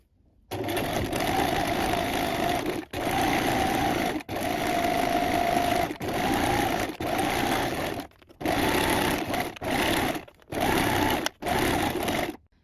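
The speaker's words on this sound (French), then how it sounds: "Donc vous allez coudre à 5 mm du bord." Sewing machine running a straight stitch with a universal size 70 needle along a fabric Christmas wreath, loud whirring bursts of two to three seconds separated by short pauses, close up, no talking.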